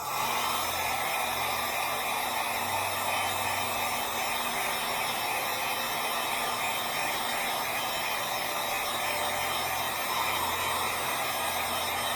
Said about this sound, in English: now I'm going to take my heat gun